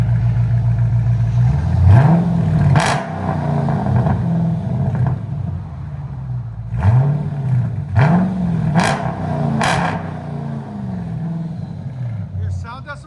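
A 2021 Dodge Charger 392 Scat Pack Hemi with a Carven R-Series exhaust rumbles close by with a deep idle, rising in several short revs and settling back between them.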